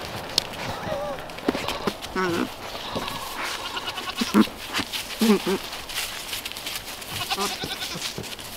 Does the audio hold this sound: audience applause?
no